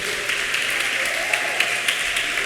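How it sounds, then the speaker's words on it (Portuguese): A church congregation applauds steadily at a service, dense continuous clapping filling the room without pause, with a few sharper claps standing out near the end. "Você pode aplaudir Jesus?"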